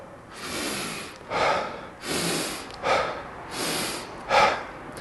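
Rapid, deep rhythmic breathing from shamanic breathwork: forceful inhales and exhales in a steady cycle, about five breaths in five seconds, close and clear with no talking.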